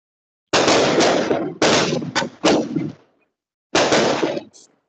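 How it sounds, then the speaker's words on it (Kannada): Firecrackers set off during a Ramayana recitation gathering burst in loud, sharp cracking volleys: three rapid clusters close together, a pause, then one more burst, each crackling and fading quickly. "ಅದು ಪಟಾಕಿ ಬಿಡ್ತಾನೇ ಇದ್ದಾರೆ"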